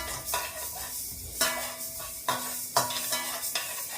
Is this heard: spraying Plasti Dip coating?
no